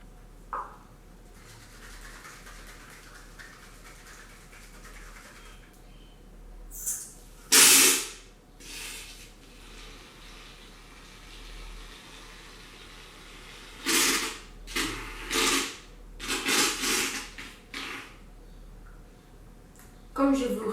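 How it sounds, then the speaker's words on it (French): Shaving foam hisses from an aerosol can in several bursts, one sharp spurt early on, then a cluster of short sprays later, with quiet background hiss between them. "Ajoutez la mousse à raser et mélangez bien."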